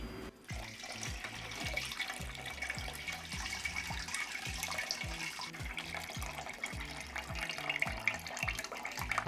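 Rinse water pours off washed rice into a bowl on a stovetop cooking setup, making a steady, close trickling and splashing stream with no talking.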